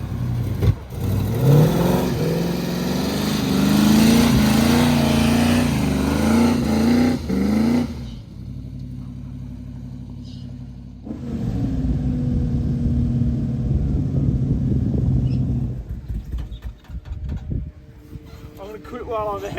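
A Ford Bronco with a 351 V8 engine runs while driving, a steady engine drone loud throughout with a short quieter gap partway, as people talk over it.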